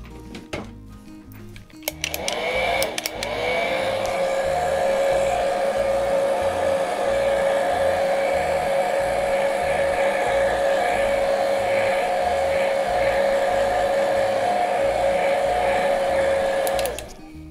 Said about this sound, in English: So I'm going to take my heat gun to this and just dry it really quick.